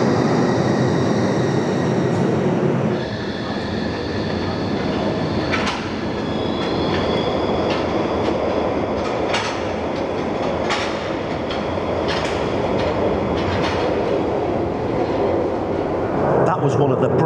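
A new Glasgow Subway train rumbles and clatters along the rails, with brakes squealing as it pulls in close by, under a steady loud din.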